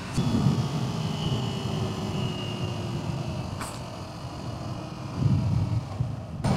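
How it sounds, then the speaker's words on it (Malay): A Kawasaki Z250 motorcycle engine runs smoothly just after a service, a continuous droning hum under wind noise while riding along a rough road. "Smooth sikit lah enjin."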